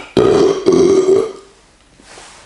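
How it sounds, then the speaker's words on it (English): A single loud, close, drawn-out burp after drinking Reissdorf Kölsch beer, a throaty croak lasting about a second and then tailing off into quiet. "I'm kind of like burping a lot."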